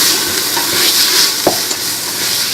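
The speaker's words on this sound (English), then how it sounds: "Mixing it for a few seconds before we go ahead and put in our lentils." Garlic stirred in a hot pot while cooking lentil soup, a steady loud sizzle with a spoon scraping and clicking against the pot now and then.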